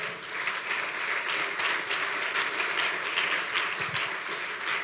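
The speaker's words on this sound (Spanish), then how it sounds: "Den un aplauso al Señor." A church congregation breaks into sustained applause during a Spanish-language sermon, a continuous wash of many hands clapping at moderate loudness, mostly free of talk.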